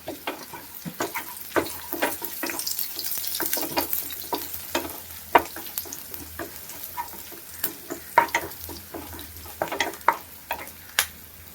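Chopped green chilies fry in a kitchen pan for a curry, a low sizzle broken by frequent sharp scrapes and taps of a spatula stirring them, close and continuous.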